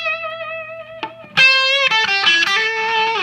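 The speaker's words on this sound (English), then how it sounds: "check out the Catalinbread RAH. It's a really great amp in a box pedal" An electric guitar through a Catalinbread RAH amp-in-a-box pedal plays a sustained note and then a run of bright, overdriven notes and bends, loud and close with no talking.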